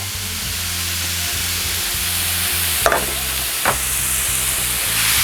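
Shrimp for street-style tacos sizzle loudly and steadily on a hot Vivo griddle, a close, continuous frying hiss with a couple of brief sharper crackles midway.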